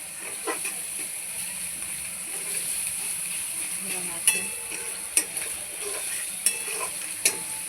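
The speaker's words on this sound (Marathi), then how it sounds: "त्याला टाकूया आपण त्याच्यामध्ये सर्व एक मिश्रण करून घेऊया आपण" A spoon stirs egg curry masala mixture in a pan, scraping and clinking in irregular taps over a steady soft sizzle; someone talks faintly in the background.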